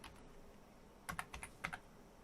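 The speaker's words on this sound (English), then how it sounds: "this is where I use the keyboard because there is no virtual keyboard on here yet" Faint, close clicks of a computer keyboard as a username is typed on a Raspberry Pi 3 setup, a few light keystrokes clustered into two short bursts over a quiet room hum.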